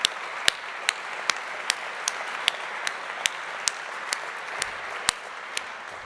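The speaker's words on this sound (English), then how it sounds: "A round of applause for John." An audience at a 2013 faculty and staff awards dinner gives a steady round of applause, with sharper individual claps standing out over a continuous wash of clapping.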